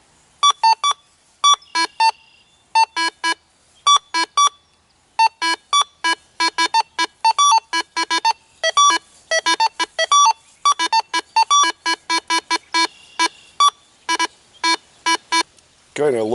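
Minelab Go Find 60 metal detector sweeping over a penny, nickel and dime, giving repeated sharp electronic beeps in quick pairs and bursts, loud and close, with short pauses between sweeps.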